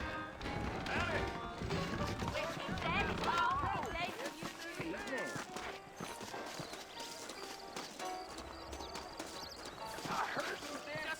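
Horse hooves clip-clop steadily in the video game Red Dead Redemption, under a thick bed of game music and ambient noise, with voices talking over the galloping rhythm.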